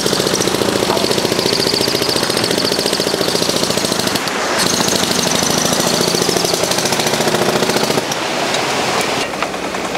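A concrete breaker chisels at a bridge construction site, a loud, rapid, steady hammering that runs in long bursts, with short pauses between strikes.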